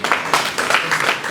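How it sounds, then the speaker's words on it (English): A breakfast meeting audience claps in continuous applause, a steady wash of hand claps without pauses, moderately loud and close, with no speech over it. "I think we have to clap to the Revenue Authority for the good work."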